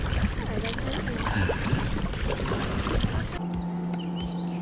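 A motorboat passes on the Ticino river as heard from a kayak, a broad engine and water rush that dominates, then cuts to a quieter stretch with a steady low hum.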